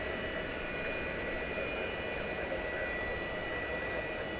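A jet airliner's engines roar steadily at DFW Airport, a constant broad drone with a faint high whine held for the whole stretch.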